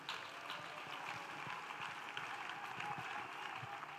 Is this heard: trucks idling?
no